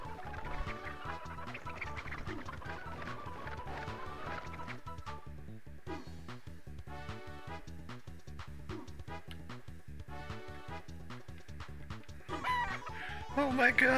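Chickens cluck in a hen house in the video game Breath of Fire III, repeated game-sound fowl calls layered over continuous background music, with a brief crowing-like burst near the end.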